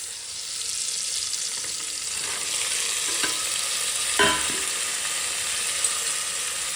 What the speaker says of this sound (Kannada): ಇದು ವೆಜಿಟೇಬಲ್ಸ್ ಚೆನ್ನಾಗಿ ಎಣ್ಣೆಯಲ್ಲಿ ಫ್ರೈ ಆಗಲಿ.